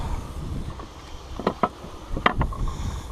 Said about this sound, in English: It is awfully windy.